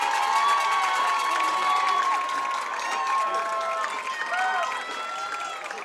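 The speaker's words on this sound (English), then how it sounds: "And a big round of applause for your Hector High School band." Crowd cheering and clapping at a Senior High football game for the Hector High School band, with a sustained shout or whistle riding over the noise and voices calling out amid the applause.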